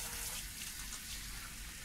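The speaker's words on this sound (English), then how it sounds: "Okay, now I'm going to wash my face." Steady gush of tap water pouring into a sink as a character washes their face in a VHS-style horror game, a constant broadband rush filling the short clip with no other sounds.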